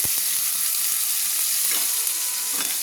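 Onion paste sizzles and fries steadily in a hot pan for egg kosha, a dense continuous crackle with a few faint scrapes of stirring, close and loud, no talking.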